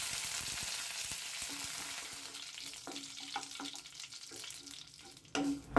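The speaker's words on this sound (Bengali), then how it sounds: "কারি পাতাটা আমার হালকা ভাজা হয়ে গেছে" Curry leaves tempering in hot oil for Malabar paneer, a soft steady sizzle and crackle close by that thins out toward the end, with a few clinks of a spoon against the pan.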